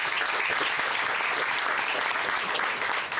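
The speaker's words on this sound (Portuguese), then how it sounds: "Um forte aplauso para Bolsonaro" Dense, loud applause from a large crowd, a steady wash of clapping that holds evenly for a few seconds before easing slightly at the end.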